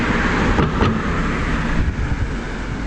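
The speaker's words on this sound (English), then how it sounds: "just wait until these cars go" Cars pass steadily on a nearby road, a loud continuous roadway rush filling the whole moment with no talk over it.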